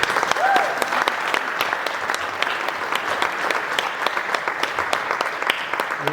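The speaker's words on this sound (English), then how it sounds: "A big hand of applause for all the volunteers." Audience at a small-town historical society town hall applauding the volunteers: sustained, dense clapping from many hands in a room, steady and moderately loud throughout, with a brief voice at the start.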